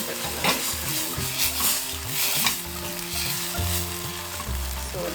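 Masala fries in a pan with a dense, crackling sizzle, and a spoon stirs and scrapes it in repeated strokes, close up with no voices throughout.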